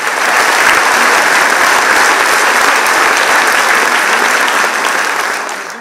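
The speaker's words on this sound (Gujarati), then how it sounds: "લાલુભાઈ માટે જોરદાર તાળીઓ થઈ જાય" A seated audience at a Gujarati stage speech event breaks into loud, steady applause, a dense wash of clapping that holds evenly for several seconds before tapering at the end.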